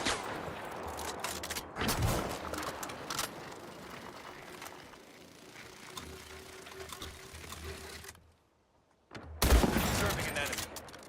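Gunfire rattles in the video game Highguard, with bursts of rapid shots around a near-silent gap, mixed with game effects and players talking.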